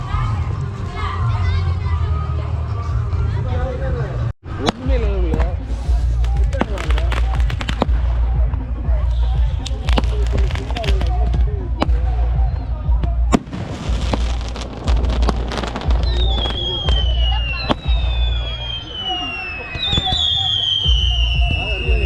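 Firecrackers at a Christmas celebration go off in a dense, continuous crackle of sharp pops and bangs under a deep rumble, with voices talking throughout.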